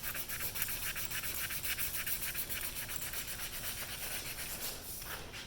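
A brush stroking primer onto the metal flange mount of a pump motor, giving a steady, close scratchy rubbing texture with faint rhythmic strokes that runs continuously with no speech.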